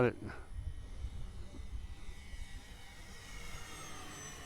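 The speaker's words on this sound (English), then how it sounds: "It's a great flying little plane." A small F-86 model jet flies past with a steady whooshing engine drone that stays fairly faint and continuous, and a voice talks over it.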